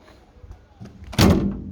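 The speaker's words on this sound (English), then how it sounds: "Look how easy the door closes." A car door on a 1945 Jaguar Mk IV 2.5 litre saloon swings shut with one solid, close thump after some faint handling noise, heard alone without talk.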